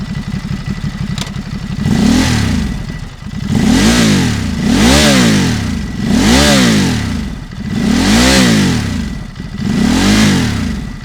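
A Ducati SuperSport 950S twin-cylinder motorcycle engine revs repeatedly up close, with five or six rhythmic swells of throttle rising and falling over a steady idle, loud and alone.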